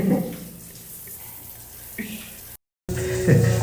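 Water pours in a steady, close splashing stream, cutting out for a moment before resuming.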